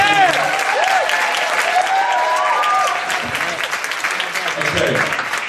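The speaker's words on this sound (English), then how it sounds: "can I get a big round of applause?" An art feedback session audience breaks into a big round of applause, sustained throughout, while voices and scattered cheering rise over the clapping.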